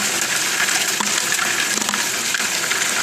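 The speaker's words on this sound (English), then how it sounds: "I'll get some gravel in here so we can kind of see how it goes." Home-built gold trommel washing gravel with water, a steady loud rushing gush of water with faint rattling of stones, close by and without speech.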